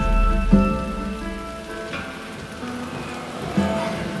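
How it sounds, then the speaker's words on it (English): Steady rain falls on surfaces at a halted construction site, a dense continuous patter with a low hum beneath and a few louder drips or knocks standing out. "rain brings construction to a halt."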